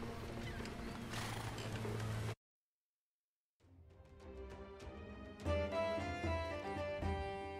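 Horses neigh and whinny with hoof clatter, broken by a brief silent gap, then more whinnying over a layered soundscape from Age of Empires II: Definitive Edition, horses being loaded onto boats.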